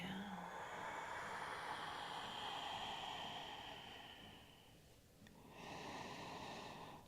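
Deep exhaling breath during a vinyasa yoga class, a long steady airy whoosh that slowly fades, followed by a renewed breath near the end, close and fairly soft with no talk.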